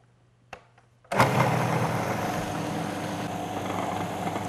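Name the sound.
Powermill blender running, turning cream into butter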